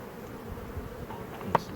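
A honey bee swarm settled in a backyard hive with foundationless frames, a day after being collected, gives a faint, continuous insect buzz, with a single short tap near the end.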